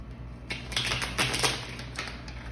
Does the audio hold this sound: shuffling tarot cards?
yes